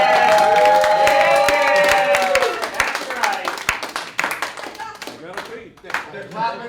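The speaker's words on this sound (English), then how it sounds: "They're clapping because we made it that far." Audience clapping at a late-show comedy club, a crowd's scattered handclaps rising to a near, busy patter under a held tonal sound, then thinning into uneven claps toward the end.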